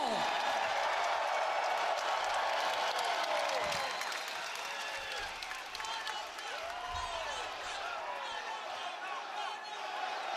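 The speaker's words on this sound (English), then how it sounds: "We're getting a Ponoka chant." A WWE 2K26 wrestling game arena crowd keeps up a steady, fairly loud roar of cheering and applause with rhythmic chanting of Ponoka, while a person talks over the noise.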